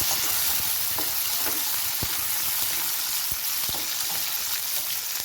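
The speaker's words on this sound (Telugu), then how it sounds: "ఈ విధంగా ఉల్లిపాయలు ఎర్రగా వేగిన తర్వాత ఒక 3 పచ్చిమిర్చి బాగా సన్నగా కట్ చేసుకొని వేసుకోవాలి" Onions and green chillies for a Guntur-style prawn curry fry in a pan with a constant hissing sizzle. Occasional stirring taps and scrapes sound close up, and no voices are heard.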